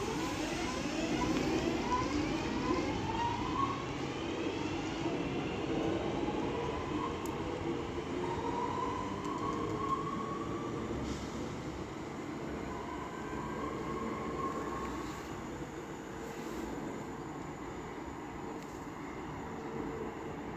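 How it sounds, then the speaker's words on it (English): A Northern Class 323 electric multiple unit departs Cheadle Hulme station on the West Coast Main Line, its rising traction whine and rumbling wheels steady and close for twenty seconds before gradually easing, with no talking. "Now getting ready to depart is 323236 with the delayed 1524 Northern service to Crewe."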